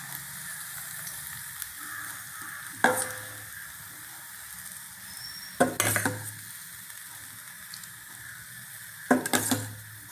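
Batter hitting a hot pan: a constant sizzle and frying hiss runs throughout, broken by three louder bursts of scraping and clatter spaced a few seconds apart, close and with no speech.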